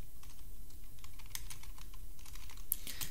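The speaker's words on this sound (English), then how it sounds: "you just type the command Instagram scraper" Keys clatter on a computer keyboard as a command is typed, a quick irregular run of light clicks, close and fairly quiet with no talking.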